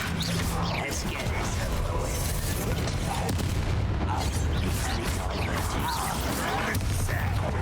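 Bombarda spell explosions in the game Hogwarts Legacy give continuous loud booms and crashing blasts through a dense, heavy combat soundscape, with a voice talking over the action.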